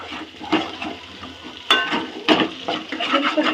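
Egg fried rice tossed and stirred in a hot pan with oil, giving a steady sizzle broken by repeated scraping strokes of the spatula, close and fairly loud, with no talking.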